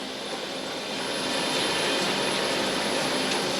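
A Pan Am jet airliner taxiing along a foggy runway, its engines giving a steady, broadband roar that swells slightly and holds loud throughout, with no voices.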